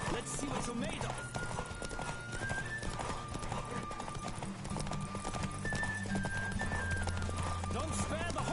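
Fast, driving hoofbeats from a galloping horse racing in The Witcher 3, with whinnies near the start and end, heard up close beneath music and a shouting voice.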